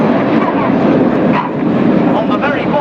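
Red Arrows RAF jets flying in formation at a Yeovilton air show, a steady, loud, broad engine roar filling the air without a break.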